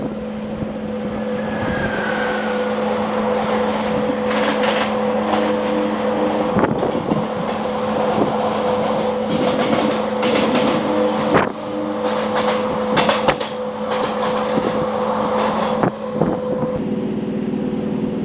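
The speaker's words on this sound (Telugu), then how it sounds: "కృష్ణ ఎక్స్ప్రెస్ అటువైపు వస్తుంది చూడండి." The Krishna Express rumbles past near a small rail halt, a long steady roar of wheels and carriages with rhythmic clatter and a droning tone throughout.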